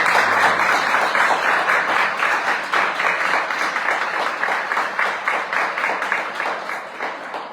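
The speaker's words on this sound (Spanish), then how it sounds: "Un aplauso para Luis." Audience applause for author Luis Carlos García Lozano at a book presentation, a steady dense wash of many hands clapping that holds strong for several seconds before slowly thinning.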